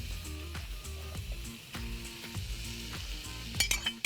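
Spicy sauce poured into a pan of frying shrimp, with steady sizzling, periodic scraping stir strokes and a few clinks of a utensil against the pan, close and moderately loud.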